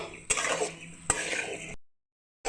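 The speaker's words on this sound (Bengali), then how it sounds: "মিডিয়াম আঁচে রেখে আমি এটাকে কষে নেব" Vegetables with fennel seeds stir-fried over medium heat in a pan: a spoon scraping and knocking against the pan with a steady sizzle, two sharp clacks, then a sudden break in the sound.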